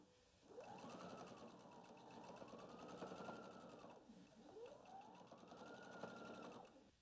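A sewing machine stitches a quarter-inch seam around a fabric square, its motor whirring in two long runs that rise and fall in pitch with a brief slowdown between them, steady and close with no voices.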